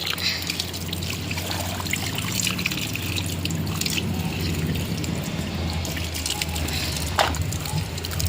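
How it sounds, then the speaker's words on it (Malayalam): Water runs and trickles steadily while aquarium plants are rinsed for a planted tank remake, a continuous close splashing with a brief louder slosh near the end. "ഫുള്ളി ഇളക്കി എടുത്ത് കഴുകണം"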